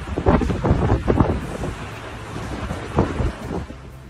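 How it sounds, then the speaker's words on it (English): A violent storm in a Chinese street brings gusting wind that buffets the microphone and rumbling thunder, with heavy bursts swelling and fading over rain noise, close and loud. "Plants and bushes thrashed violently as the storm continues its assault."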